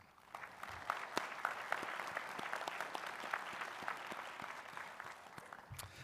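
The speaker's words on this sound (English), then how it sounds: "please join me in a round of applause for your loved ones" A graduation audience at a pharmacy college ceremony claps steadily for several seconds, a dense, even patter of many hands with occasional sharper claps standing out.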